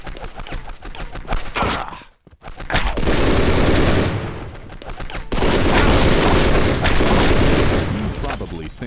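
Loud rocket launcher blasts and heavy gunfire in the game Postal 2, a dense roaring barrage that breaks off briefly then resumes in long sustained bursts.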